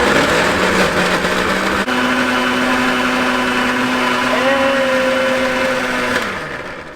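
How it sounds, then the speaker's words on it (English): A brand-new blender whirs loudly as it purees chipotle barbacoa sauce, a steady motor whine that shifts pitch partway through and then winds down at the end. "This is a brand new blender."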